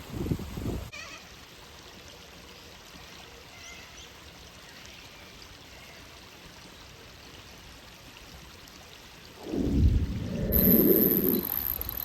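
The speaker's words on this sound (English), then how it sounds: "just sitting here listening to the birds and the water" Steady water flowing by a lake fills the background, with scattered faint bird calls and a louder splashing, gurgling burst near the end.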